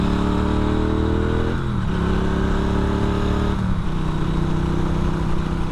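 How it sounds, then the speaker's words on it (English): Norton Commando motorcycle engine revs in two rising-and-falling surges over a steady, loud, close idle burble, with no talk. "massively characterful engine."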